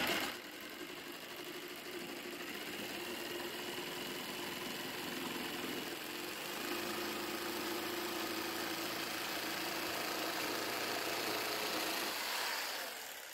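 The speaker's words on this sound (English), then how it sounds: "I'm going to use the jigsaw to start the curve just roughly" A jigsaw roughs out a curved cut in a workpiece for a small travel trailer's window AC mount, buzzing steadily and close-up for over ten seconds before stopping abruptly, with no talking.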